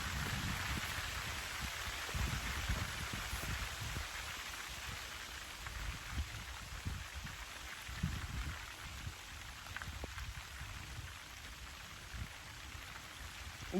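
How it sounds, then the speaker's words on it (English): Steady rain falling outdoors in a garden, a dense even hiss of drops pattering on surfaces with no voices, constant and close throughout. "it is starting to rain again"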